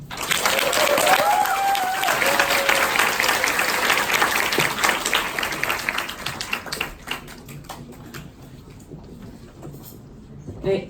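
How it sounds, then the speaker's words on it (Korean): Applause from a seated audience after a business presentation lecture, loud and dense at first, then thinning and fading toward the end, with a voice speaking over it. "다시 한번 큰 박수 부탁드리겠습니다"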